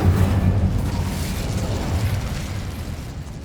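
The Incendio fire spell is cast in the video game Hogwarts Legacy, a loud, sustained roaring burst of flame that slowly tapers off, with no voices.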